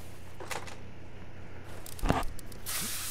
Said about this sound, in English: I've got to spray everything out.